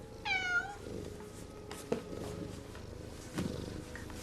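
A cat gives a single rising-falling meow near the start, followed by a soft, continuous purr under a low background hum with a few faint knocks.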